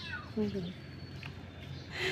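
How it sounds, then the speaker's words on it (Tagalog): A cat meows plaintively a couple of times, fairly faint, against low background rumble with light voices nearby. "Umiiyak na pusa."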